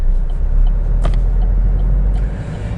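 Interior of a Vauxhall Astra driving, with a loud steady low road rumble and engine drone, a few faint clicks and rattles, and no talking.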